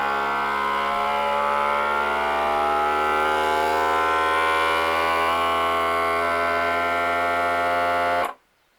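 A food vacuum sealer pumps air from a bag and seals it, giving a loud, close, steady motor drone with a constant hum that runs for about eight seconds and then cuts off abruptly into silence.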